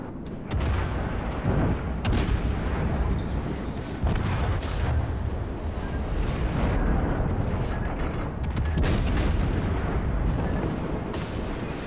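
A torpedo strike and explosions in World of Warships, heard as booming blasts and heavy rumbling bursts recurring through a continuous battle din, moderately loud, with little talk.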